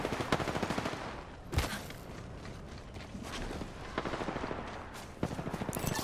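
Apex Legends battle with rapid automatic gunfire in quick bursts, sharp single shots and hurried footsteps in a busy firefight.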